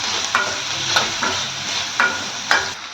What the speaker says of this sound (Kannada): ಆಮೇಲೆ ಡೊಳ್ಮೆಣಸಿನ್ಕಾಯನ್ನು ಹಾಕಿದ್ದೀನಿ. ಇದೆರಡನ್ನು ಚೆನ್ನಾಗಿ ಫ್ರೈ ಮಾಡ್ಕೋಬೇಕೀಗ.